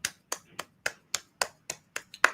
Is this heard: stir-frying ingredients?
no